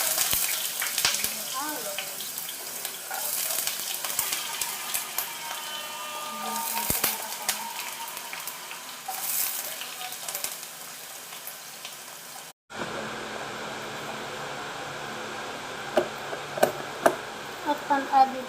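Carrots frying in cooking oil in a home kitchen pan, a steady sizzle running throughout with a few knocks and clatters, louder and brighter in the second half after a brief break.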